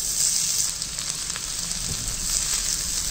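Onion and mashed potato fry in a pan, giving a steady, close, bright sizzle that crackles evenly throughout, with no voices.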